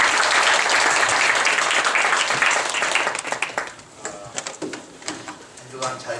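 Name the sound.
applause of encouragement for the worship team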